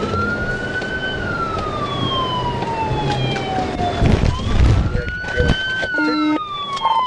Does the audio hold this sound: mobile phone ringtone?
no